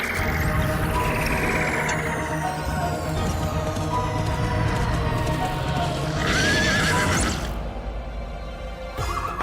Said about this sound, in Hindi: नानकू, इस घोड़ी की स्पीड का ढक्कन बस तू ही बंद कर सकता है।